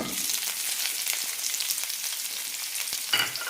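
Onions and curry leaves sauté in a pan, giving a steady close sizzle with light scraping stirs scattered through it and a brief louder clatter near the end.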